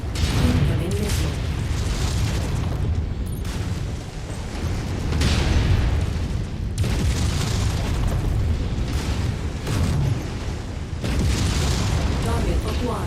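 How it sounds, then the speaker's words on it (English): MechWarrior 5 battle with missile explosions, a dense series of deep booming blasts and rumbling impacts in repeated bursts, with radio chatter mixed underneath. "Incoming missile."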